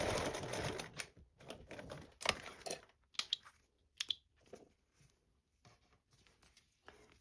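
Sewing machine basting a fabric seam on a Pandora Charisma pattern piece, heard as bursts of rapid mechanical stitching chatter separated by short pauses, close and fairly loud at first, then fading to sparse faint clicks.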